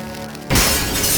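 Glass shatters in the video game Kiss: The Nightmare Child, a sudden loud crash that bursts in after a low musical drone and sustains as a bright, dense spray of breaking shards.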